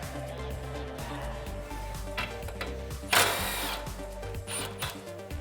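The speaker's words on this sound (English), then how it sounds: "19mm wrench and socket to break that loose" Bottom strut mount bolt on a Tacoma being loosened with a 19mm wrench and socket during a suspension lift install, whirring tool noise with a sharp burst of metallic impact partway through, close and loud.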